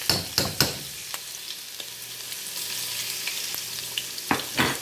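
Garlic fries in a pan for chicken rice noodles, a steady close sizzle broken by several sharp clicks and taps of a utensil at the start and end, no voices.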